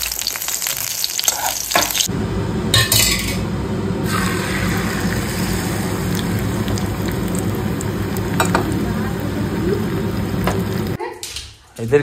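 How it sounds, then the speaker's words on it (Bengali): Round potato slices fry in a pan for a home khichuri meal, giving a steady loud sizzle that runs almost throughout, with brief stirring clatter and a quieter gap near the end. "তার সাথে হচ্ছে গোল গোল করে আলু ভাজা"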